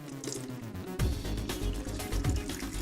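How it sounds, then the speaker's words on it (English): Water drains from an engine block drain plug in a steady splashing trickle, punctuated by low thumps and a sudden surge in flow about a third of the way in. "draining the water out of the block"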